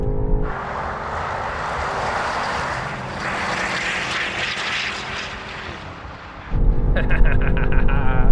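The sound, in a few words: cars accelerating in a rolling race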